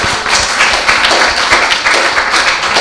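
Loud, dense audience applause at a youth council gathering in St. Ann, with many hands clapping steadily and overlapping into a continuous crackling wash that lasts the whole time.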